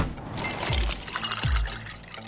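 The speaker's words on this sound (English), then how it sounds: "Those are the sounds of a brand new ice maker dropping cubes into a fresh glass of" A new ice maker drops ice cubes into a glass of water: two distinct plunking splashes, about a second apart, sound close over a soft background hiss.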